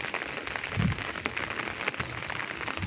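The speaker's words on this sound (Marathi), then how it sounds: "आणि रिमझिम ही चालूच आहे पावसाची" Light drizzling rain falls in a village, a soft continuous patter of fine drops with occasional slightly sharper taps, steady and moderately quiet with no talk.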